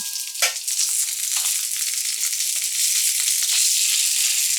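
Bangude fish coated in masala frying in hot oil in a pan, a loud steady sizzle with a few soft clicks as the pieces are flipped, close and continuous.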